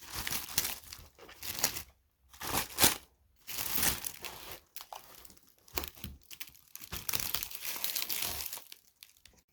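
Plastic film is stretched over a seed tray of freshly sown, lightly misted soil, giving close, loud crinkling and crackling in irregular bursts separated by short quiet gaps.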